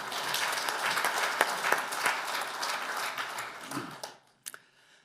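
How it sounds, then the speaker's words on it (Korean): Church congregation applauding in thanks after a sermon, a steady wash of many hands clapping that fades out near the end with a few last claps. "은혜로운 말씀을 전해주신 장로님께 감사의 박수를 드리겠습니다."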